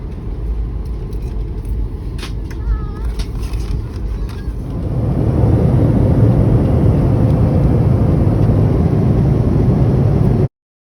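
Steady broadband engine roar inside an airplane cabin, swelling louder midway as the aircraft powers up, with faint murmuring voices and brief chimes over the drone early on.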